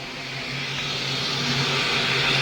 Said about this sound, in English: Steam train is here.